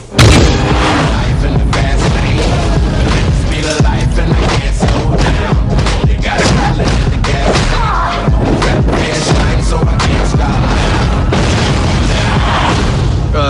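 Tank gunfire in an action film scene, a dense, loud run of booms and crashing impacts layered with score, continuous and heavy throughout.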